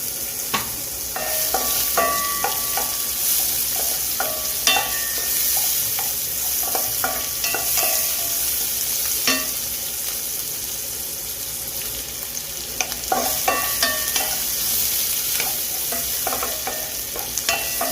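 Sliced onions sauté in a pan for chicken kaldereta, a steady close sizzle broken by repeated scraping and clinking of a spatula stirring against the metal, with no talking.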